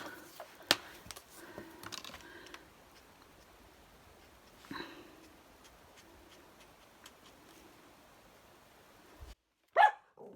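A pet rabbit barks a few times in short bursts amid quiet background and faint clicks, with one louder, closer bark near the end.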